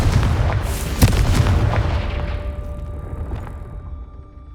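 A Confringo explosive spell blast in Hogwarts Legacy, a loud deep boom with a sharp crack near the start, then a rumbling roar that slowly fades out, alone without talk.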